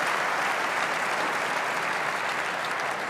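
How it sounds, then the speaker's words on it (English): A German crowd applauds at a table tennis match, the 2011 German Open men's singles semifinal, a dense, even wash of clapping from a large arena audience, sustained and fairly distant. "They applaud at the right times."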